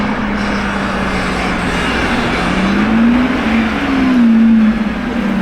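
A blue Lamborghini Revuelto hybrid supercar runs its engine with a steady drone that climbs into rising revs toward the end, loud and close, with no talk over it.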